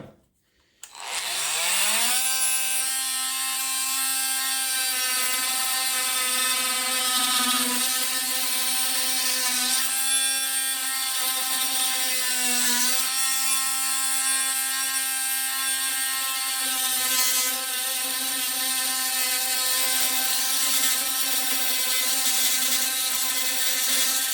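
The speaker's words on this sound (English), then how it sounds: "Now of course you can use it and cut this PVC tube." Parkside PAMFW 12 C3 cordless multi-tool cutting through a PVC tube, a loud, steady high-pitched buzzing whine that starts after a brief quiet moment and holds continuously, near and with no talking.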